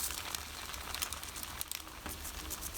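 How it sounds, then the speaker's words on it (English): A spacer rattles loosely inside a Riedell 120 roller skate wheel bearing, making a close, continuous dry crinkly rattle dotted with small sharp clicks. "That's also the spacer we're hearing clicking around in there."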